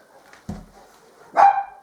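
A single dog bark sounds at moderate distance after a soft thump, brief and somewhat muffled against a quiet background with no one talking.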